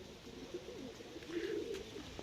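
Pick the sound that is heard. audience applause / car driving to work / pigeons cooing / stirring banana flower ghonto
pigeons cooing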